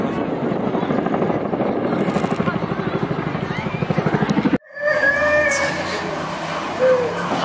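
A transport helicopter's rotor chops rhythmically, loud and close, then cuts abruptly; afterward faint high whistling tones and background noise continue.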